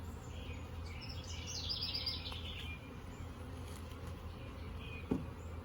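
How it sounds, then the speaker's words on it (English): A dense, steady buzz of many bees fills the air, swelling slightly midway, with a soft thump near the end. "I can really hear the buzzing now"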